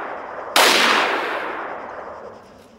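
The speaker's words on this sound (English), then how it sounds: "AWM. This is a sniper rifle." A single AWM sniper rifle shot in Arma 3 cracks out sharply and loud, then its echo rolls away slowly over the next two seconds with nothing else heard.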